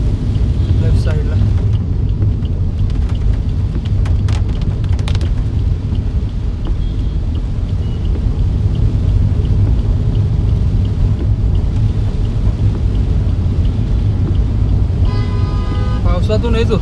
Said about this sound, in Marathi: चांगलाच मोठा पाऊस आला.